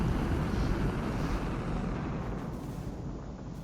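P52 Merlin spacecraft engines accelerating in the Star Citizen video game, a loud dense rushing roar that holds steady and slowly fades toward the end.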